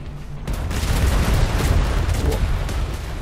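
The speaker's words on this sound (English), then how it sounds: "Manually firing the cannons." Ship cannons firing in the Atlas video game, a dense rumbling boom that swells after a brief quieter start and holds loud and continuous, like rolling cannon blasts with no speech over it.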